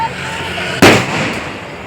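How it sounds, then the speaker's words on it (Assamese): A Diwali bomb cracker bursts with one loud, close bang over a steady background of festival noise, and the sound fades slowly after the blast. "সকলোৰে ঘৰে ঘৰে ফটকাৰ শব্দ, বমৰ শব্দ"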